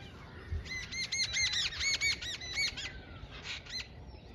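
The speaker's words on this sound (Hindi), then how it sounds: "गांव में ना पक्षी की आवाज़ सुबह सुबह सुनने को मिलेगा" Birds chirping in a village in the morning: a quick run of bright, repeated tweets close by, then a short pause and a final brief burst, over faint background noise.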